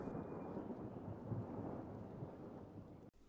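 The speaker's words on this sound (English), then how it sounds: "a thundering sound rumbled through the forest" Thunder rolls through a stormy night in a forest, a low, sustained rumble over steady rain that ends abruptly.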